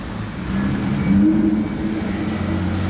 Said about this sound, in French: Il y a un moteur qui arrive en bas